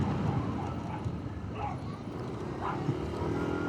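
A dog barks and yips a few times at a moderate distance, over a steady background rumble of passing traffic.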